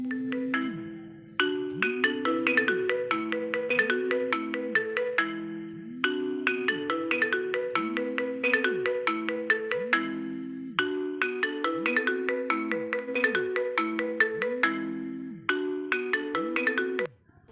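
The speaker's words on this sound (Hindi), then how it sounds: "मैंने अपने दूसरे फ़ोन से इस वाले फ़ोन पे कॉल किया था और आप लोगों ने आईफोन वाली रिंगटोन सुनी थी" The iPhone's marimba-style ringtone plays on an Android phone during an incoming call, repeating its bright plinking melody about four times with short gaps, clear and alone.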